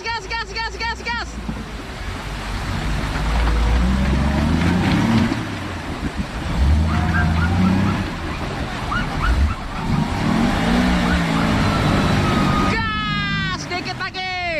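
Off-road vehicle engine revs hard and continuously while climbing a slope at Cikole, Bandung, a loud, strained roar with surging pitch over a steady low rumble, with excited voices shouting throughout.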